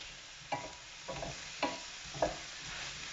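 Crushed garlic frying in a pan with mushroom and aubergine, a quiet sizzle broken by four soft scraping stirs spaced about half a second apart.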